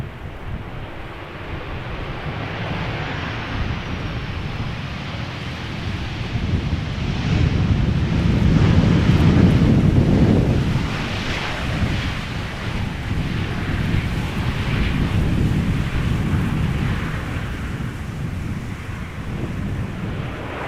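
A KLM Boeing 737-800 arrives at Amsterdam Schiphol in gusty crosswinds, its deep, rumbling jet roar rising to a peak and then fading, mixed with heavy wind buffeting on the microphone.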